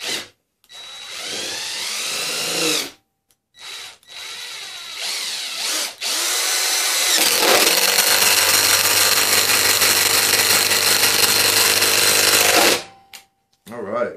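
A Ridgid Gen5X impact driver on speed 3 drives a 2.5 inch screw at full force with no pilot hole, a loud rattling hammer that runs steadily for about six seconds after shorter bursts, with brief talk near the start.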